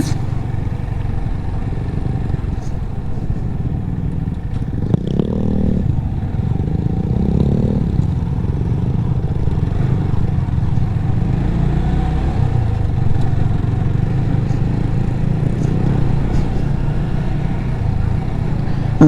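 A motorbike rides into Satchori tea garden, its mid-pitched engine droning steadily up close with rattling clatter and slight revving as it moves along.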